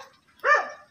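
A single sharp bark from a hungry stray dog that wandered into a backyard, close by and loud against an otherwise quiet background.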